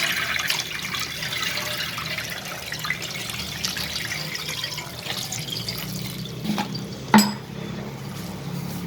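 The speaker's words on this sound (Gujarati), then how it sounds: "હવે આના પર આપણે ઠંડુ પાણી નાખીશું એટલે વધારે આપણી બફાય નહીં નૂડલ્સ." Cold water runs from a tap over freshly boiled noodles in a strainer while making chow mein, a steady splashing wash of water with a brief louder clatter near the end.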